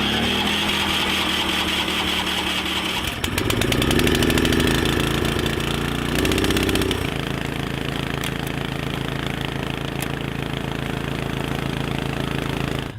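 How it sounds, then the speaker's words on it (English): A generator engine runs steadily at a mid-pitched idle, rising briefly in a louder surge of revving before settling back into an even, close, continuous drone. "What we can do is hook the generator up to it. Use the electric start."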